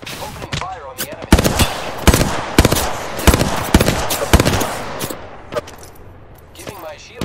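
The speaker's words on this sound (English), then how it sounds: "Opening fire on the enemy." Apex Legends gunfire rattles in rapid bursts and single sharp shots, loud and close at first, then thinning out toward the end, with a voice speaking underneath.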